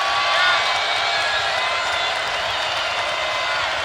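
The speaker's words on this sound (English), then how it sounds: "Crowd trying to help the Wildcats to a much-needed stop here." Basketball crowd cheering to urge a defensive stop during a UCLA vs Arizona game in 2017, a steady, loud roar of voices filling the arena with no pauses.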